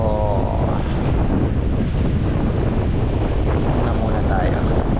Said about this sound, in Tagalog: Tingnan nyo naman ang alon.